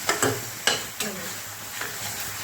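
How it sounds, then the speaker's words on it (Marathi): Masala with chilli roasting in hot oil in a pan, a soft continuous sizzle broken by a few sharp spatula scrapes and stirs against the metal, close and alone without talk. "असं चांगला हा पण मसाला भाजून घ्यायचा, कारण हा मिरची भाजली गेली पाहिजे."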